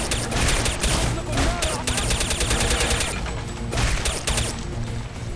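Silenced M4 gunfire in Counter-Strike: Condition Zero, with rapid bursts of suppressed shots crackling in quick succession over a busy game soundscape and clattering mechanical noises, loud and close throughout.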